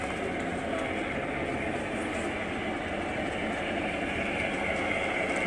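A steady, continuous rumble of a small train running on its track, even and unbroken, fairly loud and close.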